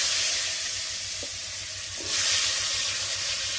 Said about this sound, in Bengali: তো এবারে আমি আলুগুলো দিয়ে দেব।